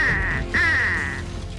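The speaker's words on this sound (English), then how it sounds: "And the ducks, too?" Cartoon ducks let out two loud, close quacks in quick succession, the second one longer and drawn out, with no talking.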